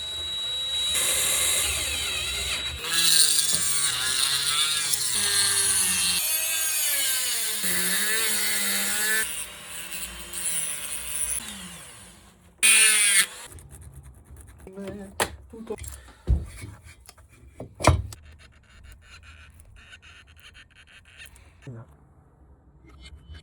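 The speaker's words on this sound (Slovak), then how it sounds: "Pôjdeme vrtať." Drill boring a window into an engine piston, a loud whining grind with shifting pitch for about twelve seconds, then quieter clanks and handling noises as people talk.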